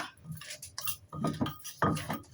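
Papaya salad, seasoned with fermented fish, is pounded in a mortar: irregular clattering knocks and scrapes of pestle and utensils against the bowl, a close cluster of thuds, faint and uneven, with no talk.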